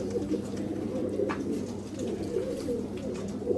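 Remans breed pigeons cooing softly at close range, a steady low murmur of coos from the flock with a brief higher chirp around the middle.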